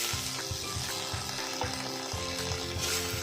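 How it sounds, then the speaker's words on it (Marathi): Chopped onion fries in hot oil in a kadhai while cooking chole masala, giving a steady, close crackling sizzle with soft pops throughout and no voices. "आता कांदा भाजायला टाकला आहे."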